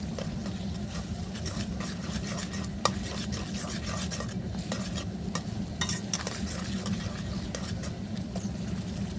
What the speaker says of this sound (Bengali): তার জন্য আমি মশলাটা খুব ভালো করে কষিয়ে নেব।